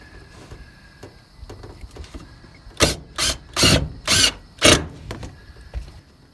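Self-tapping screws driven into a battery box with a power driver: five short, loud bursts of whirring in quick succession, preceded by quieter clicks and handling noises.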